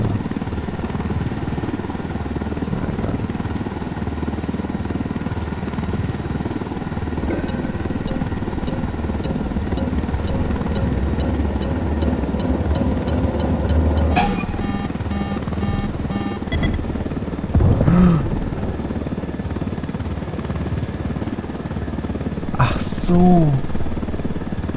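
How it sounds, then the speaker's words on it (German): Helicopter in Ghost Recon Wildlands drones steadily throughout with a rotor buzz, joined by brief electronic beeps and clicks, while voices talk over it. "Wir fliegen ihre Helikopter."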